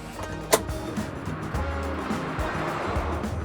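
A Citroen Ami Buggy, a small electric car, pulls away with a sharp click near the start, then a low rolling rumble and road noise that build steadily while the cabin stays free of talk.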